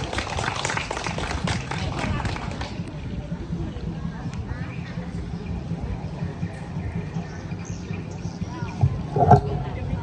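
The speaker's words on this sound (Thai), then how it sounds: "ขอเสียงปรบมือให้น้องอโปหน่อยนะครับ" A street-fair crowd on a Phetchaburi walking street claps for a child khon dancer performing the monkey role. A brief burst of applause opens, then fades under someone talking over a loudspeaker amid background chatter.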